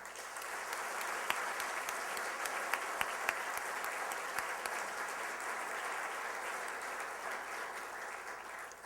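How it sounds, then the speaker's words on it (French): An audience at a Montreal business gathering applauds steadily, a dense, even wash of clapping with a few sharper claps standing out, no voices over it. "Une bonne main d'applaudissements."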